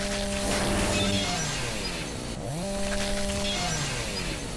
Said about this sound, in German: Da könnte man ja auch eigentlich nochmal mit der Säge durch